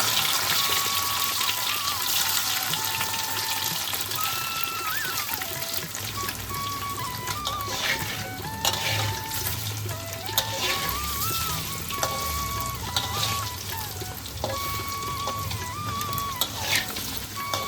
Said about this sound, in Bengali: পনিরটাকে কিন্তু আমরা হালকা করে ভেজে নিচ্ছি, খুব কড়া করে ভাজবো না